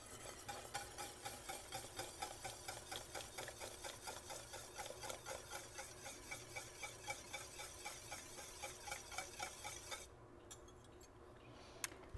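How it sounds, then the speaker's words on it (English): Whisk beating heavy cream into honey caramel sauce in a pot, a fast, steady, faint rhythmic clatter that runs for about ten seconds, then stops and leaves quiet room tone. "I'm going to whisk this heavy cream in."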